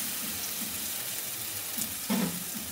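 Poppy seed paste masala frying in a pan with a splash of water for a Bengali egg curry, a steady close sizzle with a brief louder hiss near the end.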